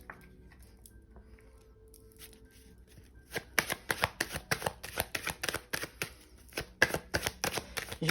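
Tarot cards of the major arcana being shuffled by hand, a few quiet rustles and then a rapid series of close, crisp riffling slaps in an uneven rhythm.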